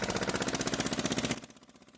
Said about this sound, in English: Oh, just out here on the tractor. It's a little loud.